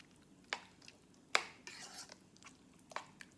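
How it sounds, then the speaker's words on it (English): Lasagne sauce ingredients with egg and black pepper being mixed in a bowl, with a few faint, sharp utensil clinks and scrapes spaced out over quiet background. "And then I'm going to mix these ingredients together."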